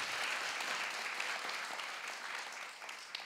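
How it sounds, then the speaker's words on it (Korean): Studio audience at a talk show gives a steady, dense round of applause, moderately near and sustained without talk, tapering slightly at the end. "이렇게 감동받으셔서 큰 박수 쳐주시는 우리 꼴통 챌린저 여러분들 어서 오세요"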